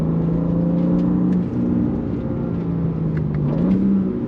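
A BMW M4 CSL's engine pulls hard under acceleration, a loud, steady rising drone heard from inside with a brief dip at a paddle shift and the tone climbing again toward the end.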